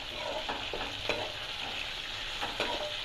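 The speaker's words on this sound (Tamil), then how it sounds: "தக்காளி நல்லா வதங்கணும்." Onion and tomato sauté in a pan for rava kichadi, a steady soft sizzle broken by a few spatula scrapes and stirring clicks, close and alone.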